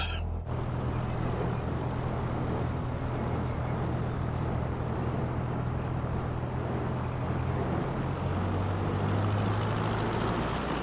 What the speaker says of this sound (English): Got a little bit more RPM so you can hear more of the engine sound going on here.